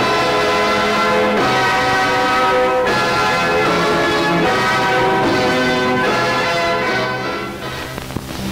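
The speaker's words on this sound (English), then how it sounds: "Compared with RCA Victor's new orthophonic sound." A 1954 RCA Victor orthophonic high-fidelity recording plays full, bright music with ringing, bell-like tones across a wide range. It is loud and rich, with rhythmic swells, and there is no talk.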